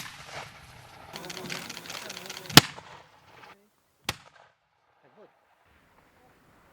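Live-fire shooting on a military training range, Hungarian meadow viper habitat, sounds as a rumbling volley followed by two sharp, loud cracks spaced apart, then near silence with a faint distant bird call.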